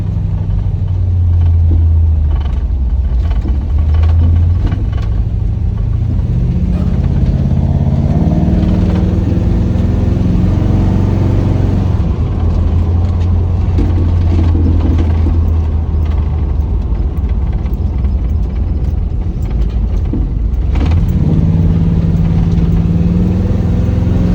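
A 1977 Chevrolet El Camino's engine rumbles up close while driving, a loud continuous drone that rises and falls in pitch as the revs shift, with no talk over it.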